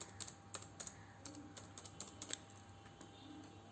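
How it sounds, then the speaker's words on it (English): Computer keyboard typing while entering a MySQL command line, light irregular key clicks close and faint, ending with a firmer enter keypress. "here I just pressed enter key"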